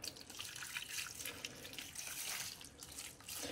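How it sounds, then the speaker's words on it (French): Water runs and splashes into a cooking pot for stuffed peppers, onions and tomatoes with rice, a faint, steady trickling pour heard alone at close range. "Je rajoute de l'eau."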